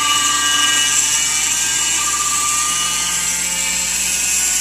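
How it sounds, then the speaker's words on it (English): A micro CNC machine drills a hole for tapping at a slow feed, giving a loud, steady high-pitched whine with a constant motor hum that holds unbroken throughout. "One more hole drilled."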